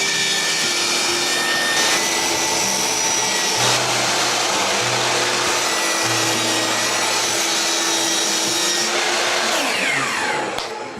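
Sheet of plywood being cut with a power saw, a loud continuous whining roar lasting the whole stretch with no pauses, close by.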